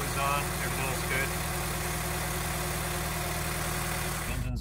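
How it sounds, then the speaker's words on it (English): A warmed-up car engine fitted with a Perrin crank pulley idles with a steady, loud, even hum, then cuts off abruptly just before the end. "Engine's all warmed up."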